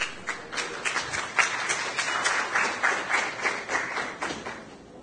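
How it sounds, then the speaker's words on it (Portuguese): A room full of people at a Banco do Brasil software event claps steadily for several seconds, a dense patter of applause at moderate distance. "Palmas para ele."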